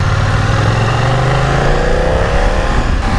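A 2020 BMW F900XR motorcycle exhaust while riding, a loud, steady, throaty drone with rising engine pitch as it accelerates, close and continuous with no talking.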